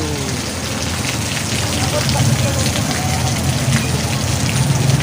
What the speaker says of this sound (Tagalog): Bumuhos na yung ulan.